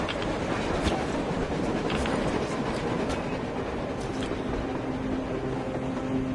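A train in the video game Metro Exodus rumbles past on the surface, a continuous low mechanical roar with faint rhythmic clatter, fairly distant and steady throughout.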